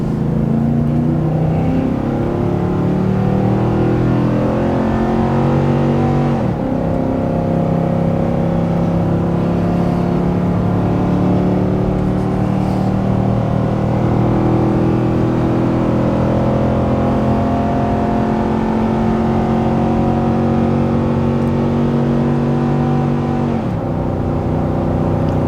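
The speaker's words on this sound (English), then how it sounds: "Wide open throttle." A Nissan Titan pickup engine at wide open throttle while towing about 9,000 pounds up a steep 6% grade, a steady loud drone with rising harmonic tones and brief shift breaks, continuous and close throughout.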